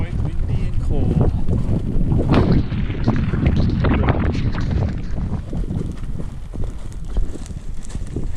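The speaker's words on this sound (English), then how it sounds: "It's quite windy and cold." Strong, cold wind gusts across a switchback trail descending a deep valley in the Cascades, buffeting the microphone with loud, continuous roaring bursts that briefly mask everything else.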